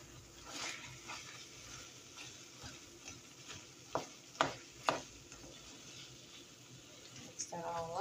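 Chopped onion and one clove of garlic being stirred together in a pan for a vegan meat sauce, soft scraping and faint sizzle with a few sharp utensil knocks near the middle.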